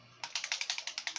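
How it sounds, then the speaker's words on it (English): A marble rattling inside a bottle of paint being shaken for crankbait painting: a rapid run of about nine sharp, evenly spaced clicks, close and fairly faint, with no talking. "Drop you a marble in there. That's what makes that clicking."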